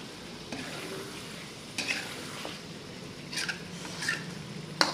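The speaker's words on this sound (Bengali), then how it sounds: "এবারে এটাকে নাড়তে নাড়তে মশলার গ্যাসটা মারবে।" A masala spice paste fries in a pan under a low, soft sizzle while a spoon stirs it in intermittent scraping strokes and light clinks against the metal, quiet and close, with no voices.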